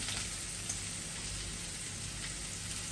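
Steady, even sizzling of large onions sautéing in a hot pan, a continuous crackling hiss with no talking.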